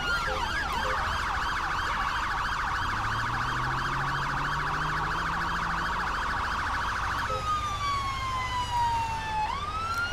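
An ambulance siren in GTA 5 wails loudly and steadily in a rapid electronic pattern, then switches to a slower rising and falling tone, with engine rumble underneath.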